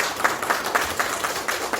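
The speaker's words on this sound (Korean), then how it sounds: "선전을 기원하는 응원의 박수 보내주시면서 모시겠습니다." Audience at a Korean political party event applauds a guest, steady moderate clapping with regular peaks, fairly distant and without talk.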